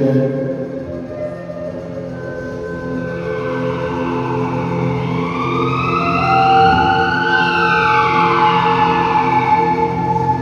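An ambulance siren wails continuously, its pitch sweeping up and down over steady engine and traffic rumble, fairly loud and close throughout.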